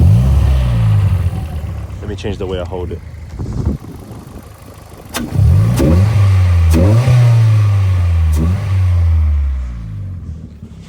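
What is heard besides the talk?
modified car engine intake while revving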